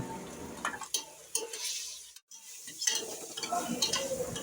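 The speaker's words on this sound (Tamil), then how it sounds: "இஞ்சி பூண்டு பேஸ்ட்டு அதில் போட்டு நல்லா வேகிற வரைக்கும் நல்லா வறுக்கணும்." Onions frying with ginger garlic paste for country chicken biryani, a soft sizzle under intermittent spoon scrapes and taps on the pan, close but fairly quiet, with a brief dropout midway.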